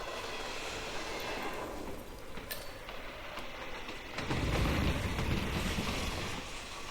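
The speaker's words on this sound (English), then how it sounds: "We're not in a facility, we're on a train." Train rumble and rattle from a moving train in Hitman III, a steady broadband rolling noise with occasional creaks and clicks, swelling louder near the end.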